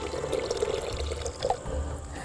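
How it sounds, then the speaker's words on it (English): About a cup of water poured into a bowl of yogurt and peppercorns while cooking chicken in yogurt sauce, a short continuous liquid pour heard up close with nobody speaking. "we shall add around a cup of water. The water goes in."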